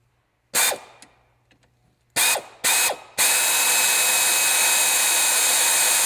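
Close, loud bursts from a drill boring holes for water-methanol injection nozzles: one short whir, then two more quick bursts, followed by a long continuous high-pitched run that holds to the end.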